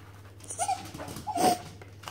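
A dog whimpers and whines for a treat during sit training, two rising high-pitched whines with a steady low hum underneath, close and moderately loud.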